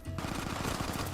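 Rapid gunfire in the video game Helldivers 2, a quick burst of repeated shots in a tight rhythm, moderately loud and dense, lasting about a second.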